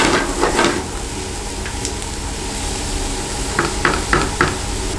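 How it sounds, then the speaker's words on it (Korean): Onions sauté in a pan for a white ragù pasta, a steady loud sizzle broken by several scraping stirs and utensil knocks against the pan near the start and end. "양파를 녹인다라는 생각으로 불에서 볶아주시면 됩니다."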